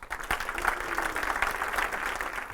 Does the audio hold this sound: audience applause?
yes